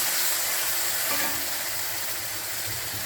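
Loud, steady sizzling and crackling of ground tomato chutney frying in a hot pan, close and continuous.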